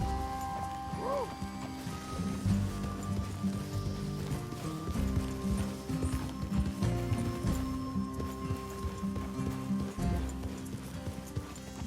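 Horses clip-clop in a steady, close rhythm of hooves in Red Dead Redemption 2, with a brief whinny near the start, occasional voices and ambient game sound underneath.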